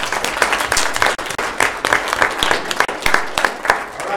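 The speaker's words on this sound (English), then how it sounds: "will you give him a round of applause?" Audience applause fills a county commission meeting room, a steady burst of many hands clapping close and loud, with a few voices mixed in.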